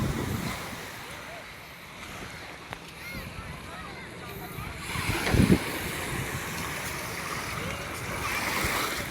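Sea waves washing onto a beach at high tide, a continuous surf roar with wind buffeting the microphone, swelling louder near the middle and end.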